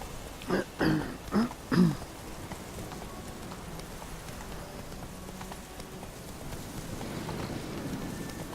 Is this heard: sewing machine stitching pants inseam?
no